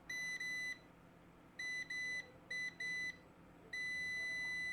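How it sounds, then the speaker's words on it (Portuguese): A multimeter set to continuity mode beeps as its probes bridge a phone's power button while the button is pressed: a steady high electronic tone sounding in repeated bursts of varying length, close and clear. "Quando aperto o botão tem que bipar."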